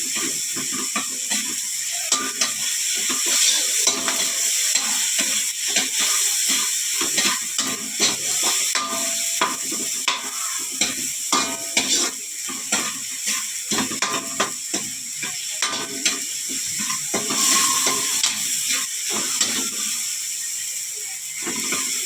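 Garlic frying in a pan while cooking pork bone monggo, with a steady hiss and sizzle broken by frequent small crackles and clicking scrapes, close and fairly loud.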